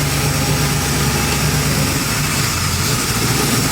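A fuel-injected small block Chevy V8 with a throttle body EFI system idles steadily to warm up, a loud, continuous low rumble with a slightly uneven pulse and no voices.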